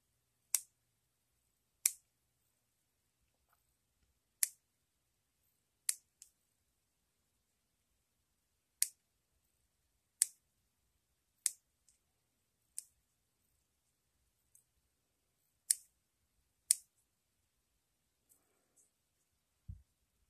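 Small scissors snip the picots of a tatted thread flower: about a dozen sharp, isolated clicks spaced irregularly across quiet, each snip close and crisp with silence between.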